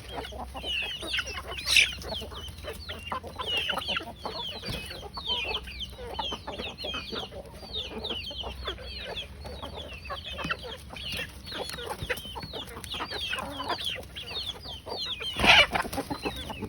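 Chickens cluck in a busy, overlapping flock in the morning, with a sharper rooster call standing out near the start and another loud squawk near the end.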